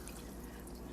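Water for rice and peas with black beans trickling and dripping steadily into a cooking pot at close range, a continuous faint splashing with no talking.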